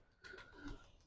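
Pigeons coo softly in a short, low, rounded burst, faint and close, with a thin steady tone running underneath.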